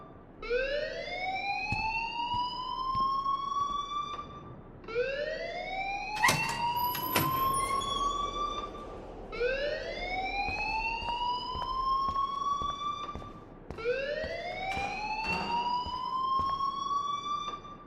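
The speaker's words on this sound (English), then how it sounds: "please turn off that alarm since that's your job" A school alarm in Life is Strange wails in four rising sweeps, each climbing tone repeating every few seconds, loud and alone with a brief clatter partway through.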